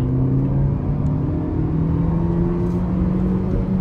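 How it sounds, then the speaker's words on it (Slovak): A 2024 SsangYong Korando 1.5 turbo GDI accelerates hard in second gear, its engine droning loudly from inside the cabin with rising revs over steady road rumble, with no talking. "Môžeme si skúsiť akceleráciu na dvojke. Dáme si tam 2500 otáčok a podlaha"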